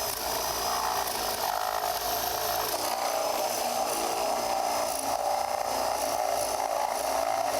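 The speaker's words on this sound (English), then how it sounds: "Now we'll just drill that out with a spade bit." A power drill with a spade bit bores through a wooden eco decking tile, a close, steady grinding whir with a rasping edge that holds constant without pause.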